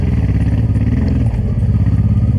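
A motorcycle climbs a rough trail in Portugal in third gear, its engine loud and close with a rapid, throbbing, clattering beat that holds steady throughout.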